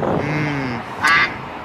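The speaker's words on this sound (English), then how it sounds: "I think I hear the ducks." Ducks quack in a video game, with a brief burst of quacking that rises out of a low ambient hum and is followed by quieter background sound.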